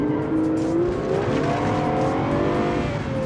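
A pickup truck engine revs steadily in the BeamNG.Drive driving game, its pitch rising and wavering in a loud, continuous, close-up drone with no break for the whole span.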